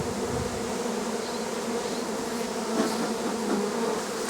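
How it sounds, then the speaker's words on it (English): Agitated honeybees swarm out of an opened hive, a dense, steady, close buzzing that fills the air without pause. "Not happy bees."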